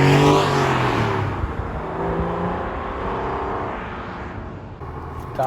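A 1998 Porsche 911 Carrera S, the air-cooled 993, pulls away in a moderately hard takeoff, its engine note rising loud and close as it accelerates, then settling into a steady drone.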